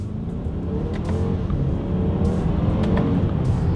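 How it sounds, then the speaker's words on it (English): A 2020 BMW X3 accelerates hard with paddle shifters, its engine droning loud and close from inside the cabin as the revs climb, with brief quick shift blips between gears. "Let's do a quick little acceleration here."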